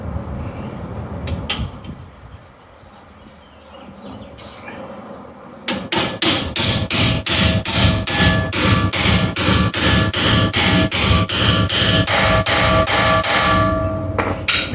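Rapid, regular metallic hammer blows ring out loudly as an axle seal is hammered into place on a Chevelle wagon, following quieter clanks and shuffling at the start.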